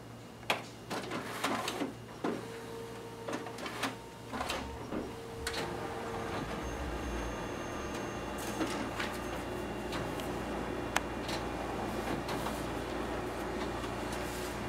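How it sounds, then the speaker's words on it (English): A Ricoh MP C2550 multifunction color copier draws two test copies through its document feeder, producing a steady mechanical whir with intermittent clicks, thumps and sliding clatters, moderately loud and close. "now we'll go ahead and test out the document feeder on this machine."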